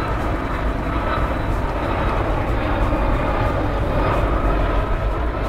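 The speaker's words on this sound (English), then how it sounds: "the A330-300 is a very popular wide-body aircraft globally" Airbus A330-300 wide-body jet, a loud, constant broadband engine rumble that holds steady throughout with no voices.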